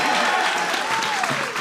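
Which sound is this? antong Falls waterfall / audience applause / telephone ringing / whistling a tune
audience applause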